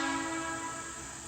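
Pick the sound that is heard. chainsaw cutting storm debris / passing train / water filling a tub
passing train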